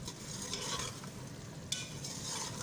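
Mutton pieces stir-fried bhuna style in a karahi for a dhaba-style Pakistani curry, giving a steady close sizzle with scraping stirs and a sharp clink near the middle, with no talking.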